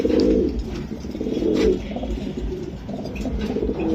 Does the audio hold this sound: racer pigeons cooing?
yes